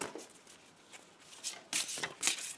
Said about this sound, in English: I'm going to shuffle once more